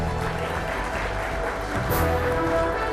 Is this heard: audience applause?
yes